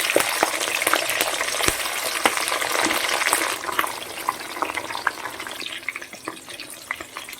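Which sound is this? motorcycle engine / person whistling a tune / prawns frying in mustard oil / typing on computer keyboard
prawns frying in mustard oil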